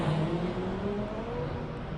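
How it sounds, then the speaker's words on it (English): A stiffly sprung Subaru BRZ race car climbs the main straight of the Simola Hillclimb, its engine droning steadily at a moderate distance with a revving, whirring tone. "Look at that BRZ bouncing up the main straight there."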